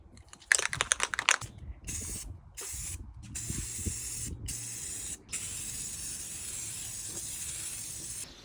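Spray paint hisses from a can onto a plexiglass sign in long continuous bursts with short pauses between them. Rattling clicks come first, and the spray is close and fairly loud.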